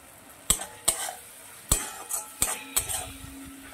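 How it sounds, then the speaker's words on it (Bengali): Spice paste of ground cumin, ginger and chili being stirred in a pan for a Bengali fish curry with potatoes and cauliflower, giving a soft sizzle broken by several sharp clinks of a spoon against the pan. "এই মশলাটাও আমি খুব ভালো করে কষিয়ে নেব।"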